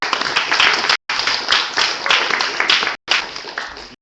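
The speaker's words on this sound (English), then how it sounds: "Round of applause for Charlie." An audience bursts into applause at a talk, dense steady clapping in loud bursts with two brief cut gaps, no voices over it.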